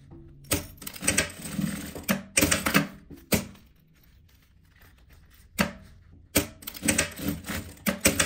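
Sewing machine stitching fabric in short, loud bursts of rapid needle clatter, separated by quiet pauses, with a few sharp clicks and taps between runs.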